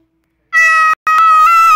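A cat in a spooky game lets out two clear, loud meows close by, a short one followed by a longer drawn-out cry, with no talk over them.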